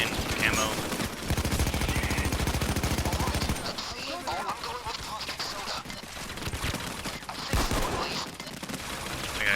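Sustained rapid gunfire from a camouflaged minigun-wielding enemy in the shooter game PAYDAY 2, a dense roaring burst that cuts out partway, then scattered shots and noisy action continue.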